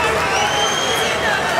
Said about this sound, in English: That draws an ovation from our crowd here at IX Center in Cleveland.